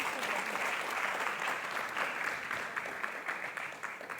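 Applause for the speakers at the Indigenous Language Imbizo 2022, dense clapping from a sizable audience, loud and continuous throughout and tapering only slightly toward the end.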